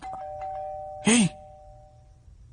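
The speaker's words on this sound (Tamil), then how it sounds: "அது பக்கத்து வீட்டு காலிங் பெல்றா." A neighbour's apartment calling bell rings once with a clear electronic tone, sustained briefly, while a voice briefly calls out over it.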